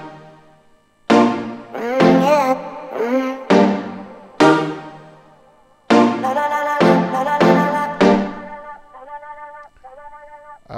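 A dancehall beat transition built in Logic Pro X with a vocal sample: bright synth stabs and sweeping chords hit in loud bursts, a sudden drop into a sustained wash, then sparse plucked notes trailing off at the end.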